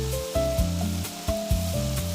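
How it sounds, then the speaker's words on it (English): Tofu fried rice sizzling in a pan with chili oil, soy sauce and sesame oil, stirred with steady scraping strokes over a continuous hiss. "Give everything a really good mix so the tofu absorbs all those savory, spicy, and tangy flavors"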